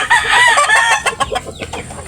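A 5-month-old throwback gamefowl cockerel crows once, close and loud, a young, strained call lasting about a second, followed by a few softer clucking sounds.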